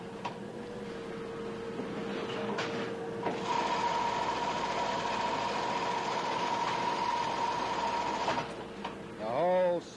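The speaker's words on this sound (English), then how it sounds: "the operator is sewing a piece of leather, or as we call it, welting, to the upper" An industrial sewing machine in a shoe factory stitches leather welting to a shoe upper, running as a steady mechanical hum for about five seconds between quieter idle stretches. Faint voices come in at the end.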